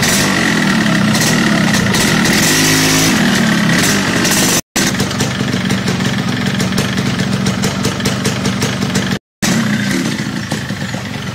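Motorcycle engine running steadily up close, a loud continuous mid-pitched idle with a brief revving change, broken by two short gaps of silence.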